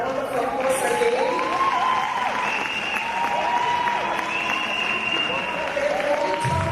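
A large summit audience applauds in a dense, continuous wash of clapping, with overlapping voices and a few raised, cheering tones rising above the crowd.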